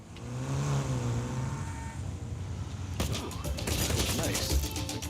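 A Jaguar E-Type car passes nearby, its engine note rising and swelling, then a harsher rasping roar takes over in the second half, with a voice briefly audible alongside.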